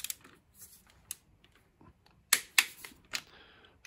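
A wrench turns small bolts on a Yamaha XVZ 1300 Venture motorcycle during a clutch job, producing sparse, quiet metallic clicks and ticks with a few sharper snaps near the end and no speech.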